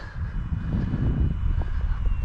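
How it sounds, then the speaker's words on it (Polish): Engine of a Szare Zero model airplane flying in falling snow, a steady droning buzz with slight wavering, fairly close and loud, with no voices. "Fajny dźwięk ten silnik daje."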